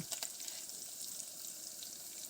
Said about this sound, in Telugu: పచ్చిమిర్చి, ఉల్లిగడ్డ ముక్కలను వేసుకొని వేయించుకోవాలి.